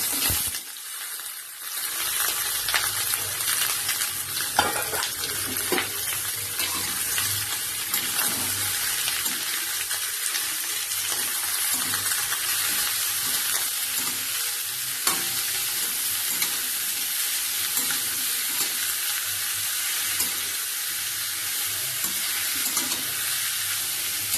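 Chopped cauliflower stalks and radish frying in a pan for a Bengali chorchori, with a continuous close sizzle, occasional stirring clatter and a watery hiss that carries on steadily throughout.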